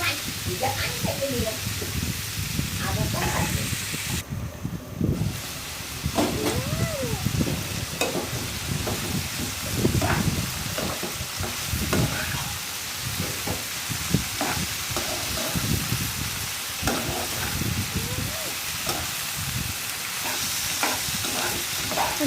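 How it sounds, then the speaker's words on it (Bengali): Bitter gourd fries in a generous amount of oil with a steady sizzle while a spatula stirs it in repeated scraping strokes, close and continuous, with a voice talking over the cooking. "ভালো করে চারা দিয়ে দিচ্ছি আর করলা ভাজিতে একটু তেল বেশি দিতে হয়"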